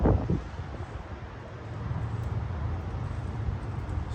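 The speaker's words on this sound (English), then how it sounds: "Again, I apologize for the wind blowing." Outdoor wind buffets the microphone during car work on a Ram pickup, a low rumbling roar with a sharp gust at the start, then a steady, fluctuating blustery noise with no talk.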